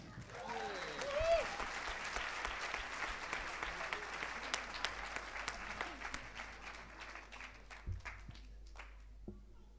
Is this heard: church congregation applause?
yes